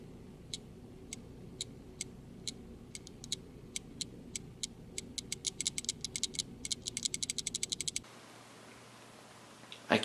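A Sony NEX-5N camera gives off a loud clicking fault noise, a run of sharp clicks that starts sparse and speeds into a dense, rapid train before stopping abruptly, with no voices.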